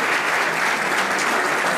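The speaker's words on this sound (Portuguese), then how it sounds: "Vamos aplaudir o Senhor, irmãos, por esse trabalho." A church congregation at a missionary conference claps together in a dense, continuous burst of applause, loud and even across the whole moment.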